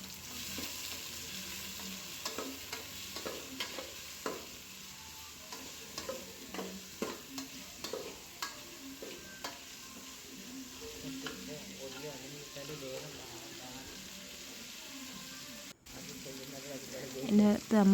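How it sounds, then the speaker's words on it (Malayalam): Onion, green chilli and tomato with turmeric and salt sizzle softly in a pan for a homemade chicken curry, while a spoon scrapes and stirs in a steady, irregular rhythm. "ഉള്ളിയും പച്ചമുളകും തക്കാളിയൊക്കെ ഇട്ടിട്ട് അതിൻ്റെ ഉള്ളിലേക്ക് ഇട്ട് കൊടുത്തിട്ട് വഴറ്റാം."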